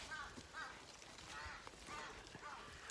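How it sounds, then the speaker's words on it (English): Crows cawing in a tree overhead, harsh repeated calls in a noisy, windy outdoor scene, fairly distant and mixed with rustling and background sound. "I've got the crows in the tree above me making a right row."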